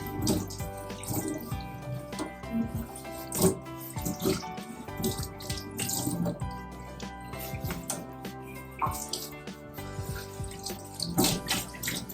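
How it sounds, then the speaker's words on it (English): Warm tap water runs over hair being rinsed in a sink, a continuous splashing flow with uneven surges and drips, close up and moderately loud, with no talking. "I'm rinsing it with warm water"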